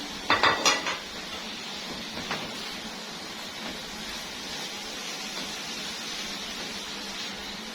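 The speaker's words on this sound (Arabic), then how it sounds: "هنقلبهم تقليبه كده حلوه، هنسيبهم مع بعض لحد ما يتناسقوا مع بعض." Minced meat, about half a kilo, stirred with wilted onion in a pan for baked pasta with béchamel and mozzarella: a few clattering scrapes of a utensil against the pan at the start, then a steady faint sizzle with no talking.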